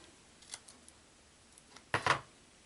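Scissors snip through foam dimensionals for card making: a few faint clicks, then a close, sharp double snip near the end in a quiet room.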